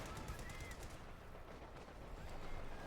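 Machine gun fire in the World War II strategy game Company of Heroes 2 sounds as a continuous, dense rattle of rapid shots. It is steady and moderately loud throughout, mixed with battlefield noise.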